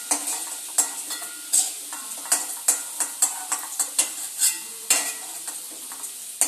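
Potatoes fry in a lidded pan, a steady close sizzle with repeated light scrapes and knocks of stirring throughout, no voices.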